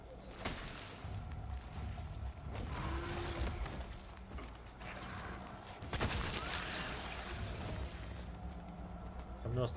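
Gunfire in Resident Evil 4 Remake: a couple of hard, punchy shots stand out over busy in-game noise, with someone talking through much of it.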